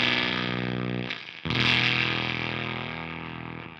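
Electric guitar played through a Beetronics Octahive V2 fuzz pedal with the octave switched off gives a loud, thick, sustained distorted chord that cuts out briefly, is struck again, then rings and slowly fades.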